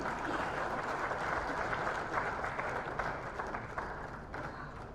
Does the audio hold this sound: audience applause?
yes